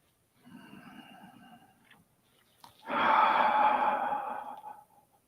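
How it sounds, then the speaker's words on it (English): A person draws a soft, deep breath in and then lets out a longer, louder exhale like a sigh, close and alone during a guided spiritual meditation. "Take a nice deep breath and let it go."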